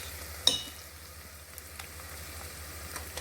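Onions and ginger garlic paste sautéing in an Instant Pot, giving a soft, steady sizzle with a faint crackle and a brief clink of a utensil early on, heard alone without talk.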